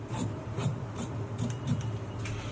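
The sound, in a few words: cutting blouse fabric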